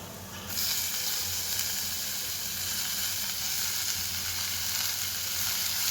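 Spring onion vegetables sizzle loudly in a hot pan with turmeric and asafoetida, a steady crackling hiss that flares up as they go in and continues close by.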